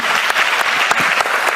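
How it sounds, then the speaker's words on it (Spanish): Audience at a reading festival breaking into steady applause, a full continuous wash of many hands clapping, loud and close, with no talk over it. "Un aplauso, por favor."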